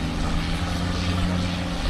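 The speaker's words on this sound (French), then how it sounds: "Plein de bateaux qui passent. Quand même assez bruyant. Les gros moteurs là, à ciel ouvert." Loud, steady droning engine roar from boats with big open engines passing near a beach on Koh Yao Yai, a dense continuous rumble with a low hum.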